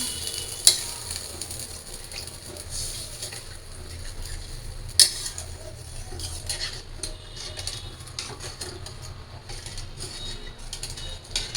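Water is poured into a pan of sautéed spices and potatoes. The result is a steady close sizzle and bubbling, with a few sharp clinks of a utensil against the pan.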